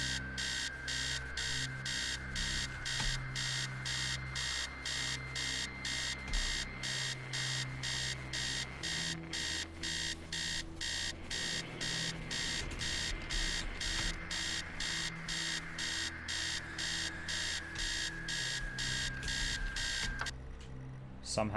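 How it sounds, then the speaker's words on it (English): An alarm clock in the video game Stories Untold blares with rapid, repeating electronic beeps that pulse steadily for about twenty seconds before cutting off, loud and insistent, with a voice talking faintly underneath. "There's the sound of an alarm clock blaring."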